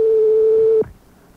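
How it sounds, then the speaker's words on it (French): A steady single telephone tone holds for just under a second and cuts off abruptly into faint background hiss, heard while a prank call is placed to a McDonald's number. "on compose un autre numéro de téléphone de McDonald's"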